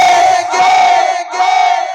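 Dense applause and cheering from a crowd at a live Hindi folk-song duel, loud and continuous with a brief dip midway and no talk.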